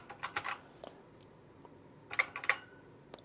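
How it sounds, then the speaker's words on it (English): Typing on an Acorn Electron home computer keyboard with long key travel: two short bursts of clacking keystrokes, close and fairly quiet, separated by a pause with a few isolated clicks. "Love the keyboard on it. It's got a nice sound to it and a good amount of travel on the keys."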